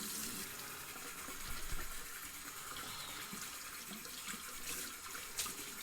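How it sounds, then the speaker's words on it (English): Tap water runs steadily into a sink while hands are rinsed during a wet shaving routine, a continuous close hiss and splash with small fluctuations and no talking. "Go ahead and rinse my hands off there."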